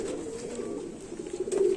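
A Kasuri pigeon held in the hand gives a low continuous cooing and throaty murmur, close and steady.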